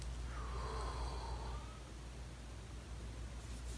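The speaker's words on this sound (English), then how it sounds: "Breathe in big." A deep inhaled breath taken during a couch stretch, heard as a faint airy intake over steady background hiss, lasting about a second and a half before easing off.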